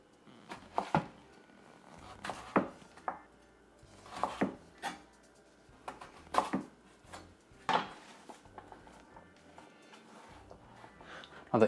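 A knife cuts sweet potato into fry-sized sticks on a board, making a slow, uneven series of distinct close chops separated by short quiet gaps, with no talking.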